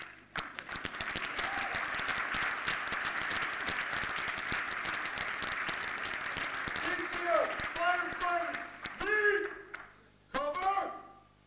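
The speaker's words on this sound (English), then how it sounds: "Y'all can clap." An audience at a fire recruit class graduation ceremony in Newark breaks into sustained, dense applause from a large crowd in a hall, tapering off as voices rise over the last few seconds.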